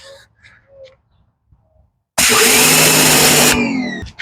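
A pressure washer with the white nozzle tip switches on abruptly, blasting a loud, steady roaring spray for over a second before cutting off, following quieter clicks and handling noises.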